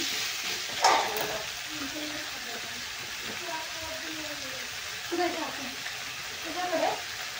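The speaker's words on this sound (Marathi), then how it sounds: "बटाटा छान मस्त असा आपल्याला परतून घ्यायचा आहे चांगला करून" Potatoes sautéing in a pan for a spicy green-chili potato curry give a steady, soft frying hiss with a few brief stirring scrapes, while a person talks intermittently over the cooking.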